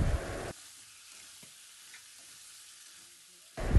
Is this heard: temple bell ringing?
no